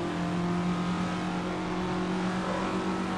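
Steady engine drone of a Formula Ford Russell-Alexis Mk14 in the Assetto Corsa racing game at old Silverstone, a constant mid-pitched hum holding a fairly even note throughout.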